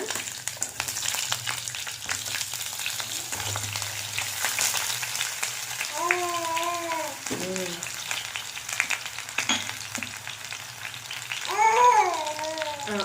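Potatoes go into hot oil already crackling with mustard seeds and curry leaves, a steady close sizzle with occasional stirring scrapes, while brief voice-like sounds rise faintly in the background.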